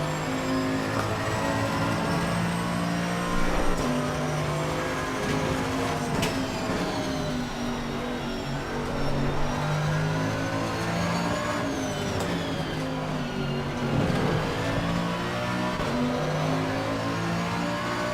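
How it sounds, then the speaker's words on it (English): A Mercedes-AMG GT2 race car in a racing video game roars continuously, its engine climbing and dropping through gear changes with loud, rising revs and brief lifts. "definitely love the AMG. I'm just not sure if this is the right sound"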